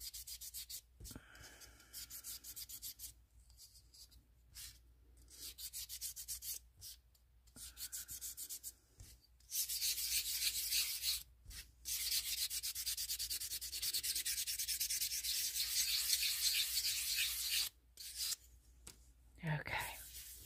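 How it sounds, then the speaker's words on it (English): Close, rhythmic rasping of sandpaper rubbed by hand over a hard resin piece, strokes starting and stopping with short pauses between bursts. "We're going to sand this down."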